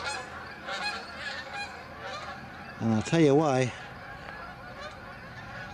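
Geese honk loudly overhead in a short burst of several stacked calls near the middle, while someone talks over steady outdoor background before and after.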